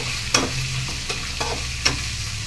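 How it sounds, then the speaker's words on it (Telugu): A spoon scrapes and stirs a grated raw mango dish in a sizzling pan, giving four or five distinct close scrapes over a constant soft frying hiss, with no talk. "కూడా అంతా ఇలా కలుపుకోవాలి"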